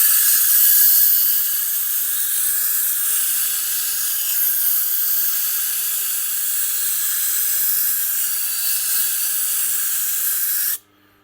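A broken ceramic knife being reground on a Tormek sharpener, a steady high grinding hiss running unbroken for several seconds before stopping abruptly, close and with no talk.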